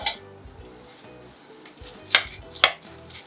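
Cheesy bacon bake with caramelised onions being served onto plates, a soft low scraping under two sharp clinks of a serving utensil against a dish near the end.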